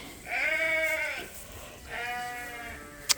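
Sheep on a farm with Suffolk ewes and scurred Dorsets bleat twice, two drawn-out nasal calls close by with a short pause between, then a faint click at the end.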